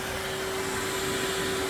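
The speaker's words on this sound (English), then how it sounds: "So now I'm going to hoover out all them bits in between." A vacuum cleaner hoovers loose debris out from between boiler sections, a steady, loud, continuous motor drone with a constant whine and no talk over it.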